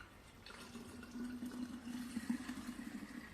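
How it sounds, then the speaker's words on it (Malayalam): Water pours steadily into a bottle, a continuous gurgling stream with a rising tone as it fills, fairly quiet and close. "ഇത്ര പോലും എടുത്തിട്ട് നിറച്ച് വെള്ളം ഒഴിക്കുക"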